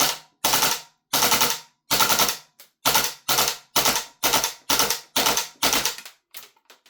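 A WellPro PPK-20 gas blowback airsoft rifle fires BBs in a cool indoor room, about a dozen sharp, loud, closely spaced shots in a steady semi-auto rhythm, then weaker final pops as the gas runs low.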